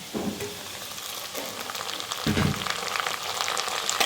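Chopped tomato tipped into a pan of lightly fried onions sizzles and crackles steadily, with soft stirring scrapes and a brief louder burst as more goes in, close by with no talk.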